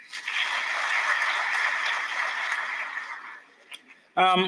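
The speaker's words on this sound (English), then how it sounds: "Please give him a round of applause." Applause at a book launch for the Deputy Speaker of the National Assembly: a room of people claps steadily for over three seconds, fades out, then a voice begins speaking right after.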